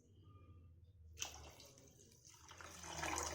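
Water is poured into sambar with tamarind juice and jaggery, a faint close splash and gurgle that starts abruptly after a quiet moment and keeps flowing, with no talk.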